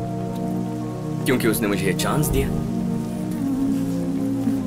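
Rain falling as a steady hiss on surfaces, continuous and moderately loud, with someone speaking Hindi over it midway.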